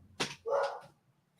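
A dog gives one short bark, then a longer whining yelp from somewhere in front of a house with the windows open. Both calls are moderately loud, with quiet around them.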